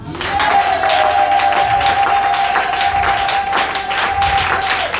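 A church congregation applauds continuously, a loud dense wash of clapping from many hands with a sustained tone ringing underneath.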